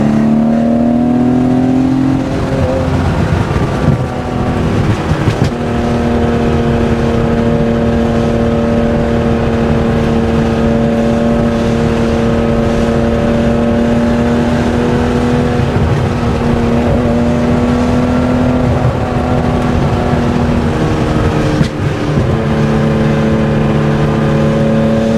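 Air-cooled flat-six of a 1972 Porsche 911 T with a 2.8-litre EFI engine, droning loud and steady from inside the car while driving, its pitch rising and falling through gear changes and throttle shifts.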